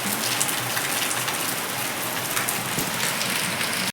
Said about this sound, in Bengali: বাইরে রিমঝিম রিমঝিম করে বৃষ্টি পড়ছে